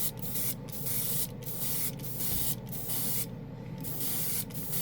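An airbrush sprays chrome candy ink acrylic paint at 20 psi in a steady hiss, broken by several short pauses as the trigger is released, close and fairly loud, with no voices.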